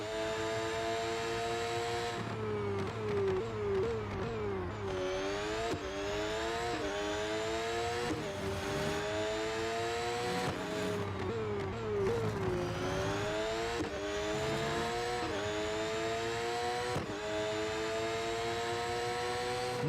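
A race car in the Real Racing 3 mobile game, driven at the limit of grip, has a loud, high engine that revs up and drops repeatedly through rapid gear shifts, with a steady rising-falling rhythm and no talking.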